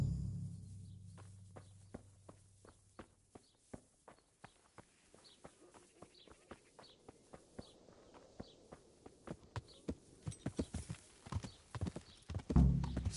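Horse hooves clip-clop steadily in the medieval game Kingdom Come: Deliverance, a regular walking rhythm that grows louder and quicker toward the end over a faint background.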